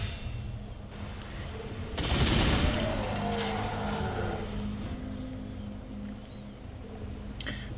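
Weapon firing at an enemy in Warhammer 40k: Space Wolf, a loud burst that starts suddenly and then trails into a sustained rumbling barrage, ending in a sharp crack.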